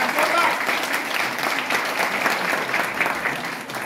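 Loud, steady applause from an audience at a talk honouring a speaker, dense clapping sustained throughout with faint voices mixed in.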